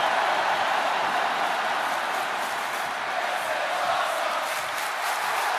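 Dense crowd cheering in the WWE 2K25 wrestling game, a continuous loud roar with excited whoops, steady throughout and holding no distinct words.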